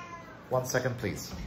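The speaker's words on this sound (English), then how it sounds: "Did not want my cat meowing the entire video" A house cat meows a few times in short bursts indoors, close by, with a person speaking briefly over the meows.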